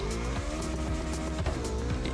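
Porsche Spider engine droning steadily in The Crew Motorfest, a continuous close harmonic hum with faint tire noise, loud and unbroken throughout.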